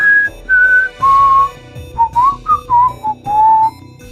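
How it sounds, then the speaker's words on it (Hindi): Someone whistling a sweet melody from an upper-floor window, with clear sustained notes and short gliding phrases in a loud, close tune of about a dozen notes with brief pauses between them. "तभी अचानक ऊपरी मंजिल की एक खिड़की के पास से सीटी की आवाज आ रही थी"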